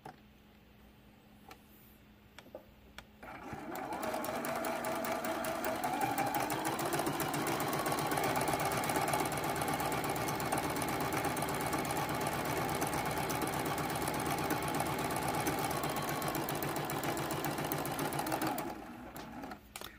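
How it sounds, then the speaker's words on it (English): A sewing machine runs steadily for about fifteen seconds, stitching a corner-to-corner line across quilting fabric for flying geese blocks, a close, continuous mechanical whir with rapid needle ticking that stops abruptly at the end. "We're going to sew this first line, the corner to corner line."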